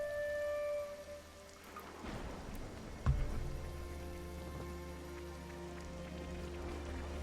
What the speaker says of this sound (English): Also, it rained.